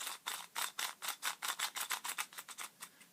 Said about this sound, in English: here's the sound of the